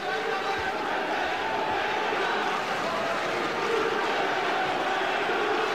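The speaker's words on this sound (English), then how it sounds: "This crowd is deafening." Deafening crowd at a kickboxing fight between Mike Zambidis and Gurkan Ozkan, a loud continuous roar of thousands of voices filling the arena, rumbling and swelling slightly with cheering, under commentary.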